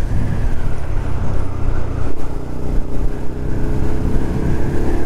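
A Lexmoto LXR 125 motorcycle rides along a road, its small engine droning steadily and loud close to the microphone, with rumbling road and wind noise throughout and no talk.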